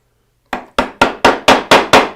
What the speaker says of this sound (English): you take the chisel, you put it right on the inside corner